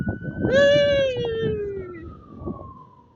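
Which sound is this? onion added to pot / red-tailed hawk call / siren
siren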